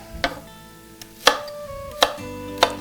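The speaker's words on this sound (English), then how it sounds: "you can take your paring knife or your chef's knife and just cut them up into small cubes like this" A paring or chef's knife dicing apples into small cubes on a board, four or five crisp, sharp chops at uneven intervals, close and clear over a quiet room.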